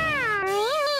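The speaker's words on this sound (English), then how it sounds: "Oh, that's just a monkey." A short animal call from a jungle-themed toy playset, a single rising and falling whiny cry lasting about a second, clear and close with no talking.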